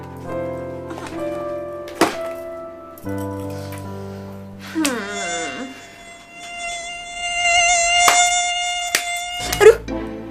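A mosquito buzzes at night in a bedroom, a thin whine that keeps going for ten seconds alongside steady tones and a few sharp taps and thunks.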